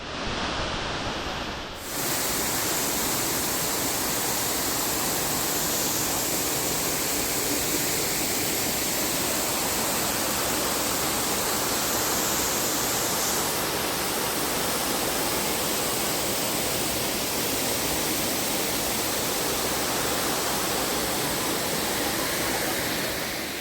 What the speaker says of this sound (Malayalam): മാടശ്ശേരി വെള്ളച്ചാട്ടം ഒരു രക്ഷയില്ല